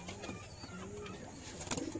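Pigeons in a loft give soft, low coos close by, a few murmured calls over quiet background rustle.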